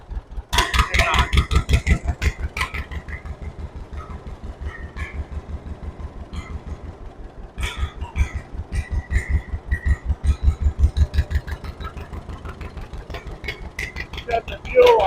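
A John Deere AO tractor engine idles with a steady, close, rhythmic low chugging and occasional clatter, running on unbroken for the whole stretch.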